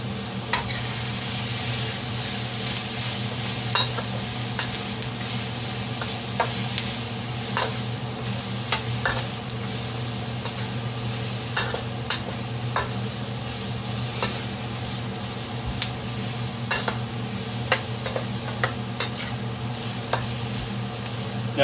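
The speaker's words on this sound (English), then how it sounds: "Stirring up some refried beans." Refried beans being stirred in a pan for gluten-free chicken fajitas, a steady sizzle under repeated scraping and tapping of the utensil against the pan at an irregular rhythm, close and continuous with no talk.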